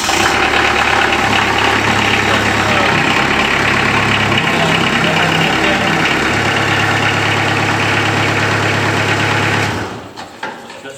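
A small 2000-model tractor engine with 826 hours idles steadily with a low, knocking chug, running close and loud before cutting off abruptly near the end.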